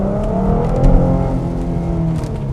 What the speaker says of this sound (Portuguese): Esse carro tem um escape esportivo, deu para ouvir um pouquinho